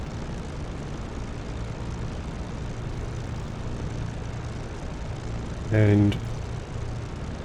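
A propeller aircraft engine runs at a steady drone in the flight simulator DCS World, with a brief, louder voice breaking in over it near the end.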